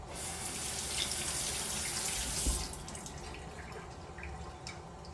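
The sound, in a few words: water running into a pot for steel cut oatmeal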